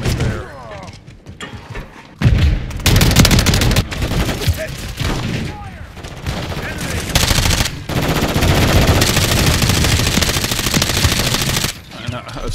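Bursts of automatic gunfire and rapid shots in a military video game firefight, loud and dense, with pauses between volleys, mixed with game sounds and a voice talking over it.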